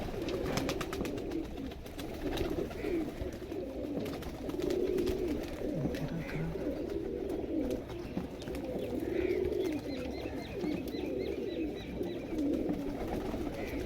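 Pigeons coo in repeated low rolling phrases, several birds overlapping close by, with faint higher chirps and a rustle of background noise and no clear talking.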